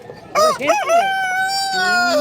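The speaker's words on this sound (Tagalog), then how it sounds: "May manok pa rin?" A rooster at a pet market in Bulacan crows once, loud and close, with a full drawn-out cock-a-doodle-doo lasting about two seconds and ending on a long held note.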